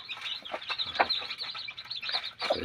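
Newborn fighting-cock chicks, only two or three days old, chirp in a steady, busy stream of high, thin peeps with a few louder calls standing out, close by and with no talk.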